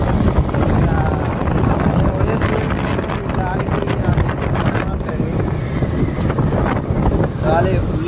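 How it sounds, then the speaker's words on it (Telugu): Strong wind buffeting the microphone in a loud, continuous roar with gusty surges, and passing traffic nearby. "గాలి ఫుల్ గాలి అయితే వస్తుంది."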